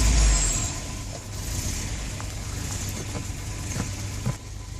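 A 1984 Volvo 240 engine idles with a steady low rumble, close and fairly loud, with a few faint clicks and knocks over the drone.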